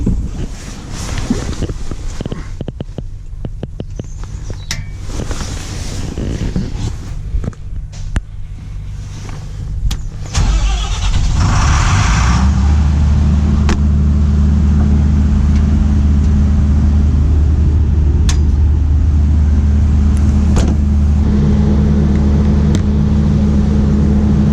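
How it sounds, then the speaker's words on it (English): A generator powering a Shepton Mallet Carnival 2019 float cranks into life about midway after wind and handling noise, then runs with a loud, steady, low droning hum to the end. "So to do that, I need to go and start up the generator."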